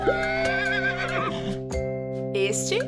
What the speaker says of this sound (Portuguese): Este é o som do cavalo, que vai relinchar de novo.